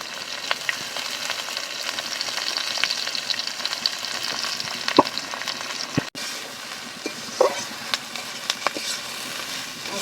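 Whole green chillies and onions sizzling steadily in hot oil for a village-style country chicken curry, a continuous crackling fry with a few sharper pops, no voices.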